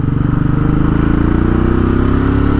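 A Royal Enfield Classic 500 motorcycle engine thumps loud and close while riding, a continuous rhythmic single-cylinder beat that climbs slightly in pitch as the bike gathers speed.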